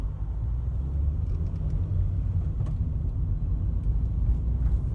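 Car engine rumble as a driver pulls out into traffic on a road in second gear, a steady low drone close by without speech.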